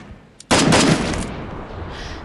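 A sudden loud gunshot blast in the Free Fire video game, with a short roaring burst that decays into a lingering rumble, preceded by a faint tick.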